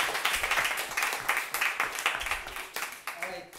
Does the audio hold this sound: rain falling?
no